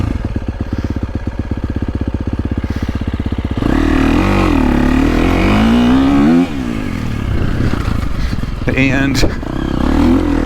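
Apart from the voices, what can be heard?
2023 KTM 350SXF dirt bike engine revving while riding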